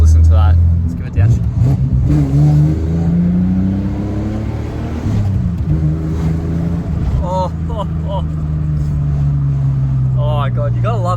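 A manual E series Ford Falcon with a 4-litre engine revs hard and then drops in pitch on a downshift, a loud, close engine roar that runs throughout under excited talking.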